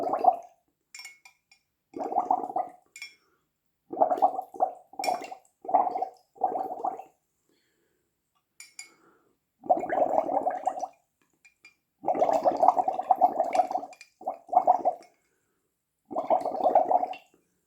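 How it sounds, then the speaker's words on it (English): Bubbles are blown through a straw into a Japanese Fanta melon drink, close gurgling bursts repeating in short and longer runs separated by silent pauses. "We'll do some more bubble blowing for relaxation."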